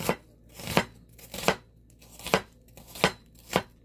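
A kitchen knife slices an onion thinly on a cutting board for Korean rolled eggs, giving seven crisp, evenly spaced chops close up with no talking.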